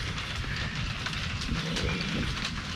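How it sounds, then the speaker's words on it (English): Steady rain falls near a diesel Kubota T1600 lawn tractor, a dense, continuous hiss and patter that holds at an even level throughout with no voices over it. "You hiding from all the rain?"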